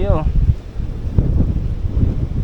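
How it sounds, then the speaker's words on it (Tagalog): Strong wind buffets the open countryside around a motorcycle rider near Dingalan, a loud continuous low roar with gusty swells, with a brief voice near the start. "Lakas ng hangin."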